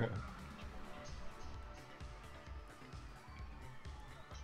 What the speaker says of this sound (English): You hear that crowd, May?